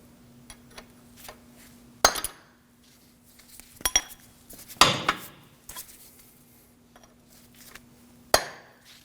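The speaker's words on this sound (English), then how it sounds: "Use a punch to free up the axle from the hub." A punch struck with a hammer to free the CV axle from the hub of a 2013-2015 Subaru XV Crosstrek 2.0L H4, several sharp metallic clanks at uneven intervals with quieter tapping between.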